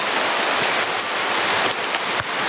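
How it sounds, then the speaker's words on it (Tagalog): Steady rain falling, a dense continuous hiss filling the whole stretch with no break, close and fairly loud, with no voices. "Kahit ulan patuloy."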